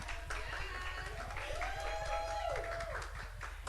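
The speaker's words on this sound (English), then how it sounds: "let's give a round of applause to you and our beautiful" Audience applause for Miss United States at a speaking event, a steady wash of clapping from a crowd that continues under a speaking voice the whole time.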